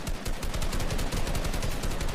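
Rapid bursts of automatic gunfire in Fortnite, dense and continuous with rattling rhythmic shots throughout.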